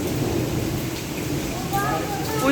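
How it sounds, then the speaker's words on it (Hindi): Heavy rain pours down in a steady, dense hiss, with a low rumble underneath and no break throughout. "वो इतनी तेज बारिश हो रही है"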